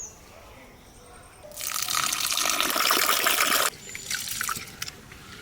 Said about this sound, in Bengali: এই দেখো কত ময়লা জল বেরিয়েছে